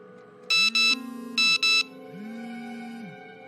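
Phone ringtone sounds with two pairs of bright electronic rings, plus a lower warbling tone and a faint steady hum in a quiet indoor room, moderately loud with no talk.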